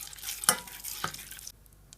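Chili flakes stirred into melted butter in a pan, a close, soft sizzling scrape with two sharper spoon strikes, then the sound drops away to near quiet.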